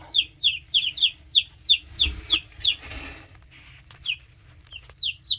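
Young chicks in a brooder under a heat lamp, peeping in a steady run of bright, repeated chirps, close and clear over a low background hum; no talking.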